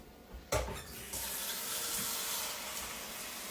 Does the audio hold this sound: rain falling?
no